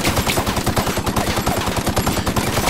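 Rapid automatic gunfire from The Outer Worlds video game, a loud, dense burst of shots hammering continuously for a few seconds.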